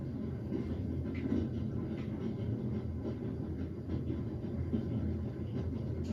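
Steady train-riding ambience in The Raven Remastered, a low continuous rumble with faint rhythmic rail clatter throughout, moderately quiet and without speech.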